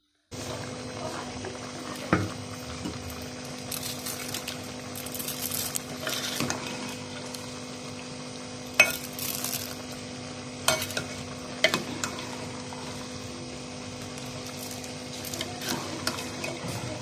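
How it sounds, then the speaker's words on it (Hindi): A pot of savory potato vermicelli pulao simmers on the stove with a steady soft bubbling, quiet and continuous, with a few faint clinks and stirs along the way. "बबल्स बनना शुरू हो चुके हैं।"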